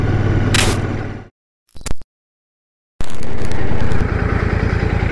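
A Royal Enfield Shotgun 650 motorcycle roars loudly while riding, with a gap of near silence and a brief burst, then loud steady engine and wind noise returns, close and unaccompanied by talk.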